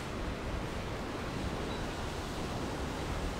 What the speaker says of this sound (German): Und jetzt sind wir hier am Strand angekommen und es geht ein Wind vom Südosten.